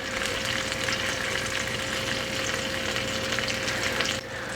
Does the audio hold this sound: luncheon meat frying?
yes